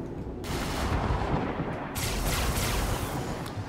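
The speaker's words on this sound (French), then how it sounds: "Canon plasma." Plasma cannon firing in the space game Star Citizen, a dense roaring barrage of blasts and rumbling bursts, loud and continuous for several seconds.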